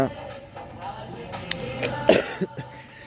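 A person with a cold coughs a couple of times near the end, close by, after a stretch of quieter background sound.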